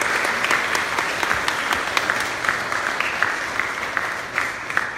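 A library audience applauds after an author's talk, dense sustained clapping from a crowd of listeners, steady and fairly loud throughout, tapering slightly near the end.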